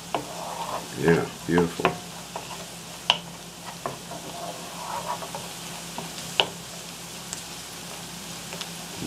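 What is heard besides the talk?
garlic and onion frying in pan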